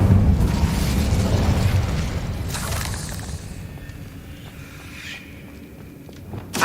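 Incendio fire spell cast in the video game Hogwarts Legacy, a loud fiery burst that rumbles and fades over several seconds into quieter game ambience, with a small pop at the end.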